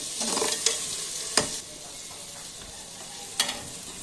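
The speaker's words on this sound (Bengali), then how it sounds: "একটা গন্ধ দেওয়ার জন্য একটু ভেজে নিলাম।" Frying in a pan, a quiet steady sizzle with a few distinct spatula scrapes and knocks, louder at the start and then settling into a softer hiss, with no voices.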